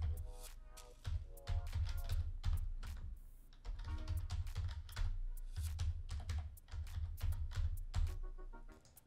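Password typed on a computer keyboard, a close run of quick, crisp key clicks in irregular bursts with short pauses, continuing steadily throughout with no voices.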